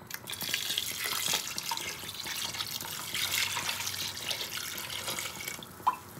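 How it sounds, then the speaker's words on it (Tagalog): Water pours from a tap into a pot of braising pork with cola and boiled eggs, a steady splashing trickle at moderate distance with no talking. "So, magdadagdag din po tayo tubig."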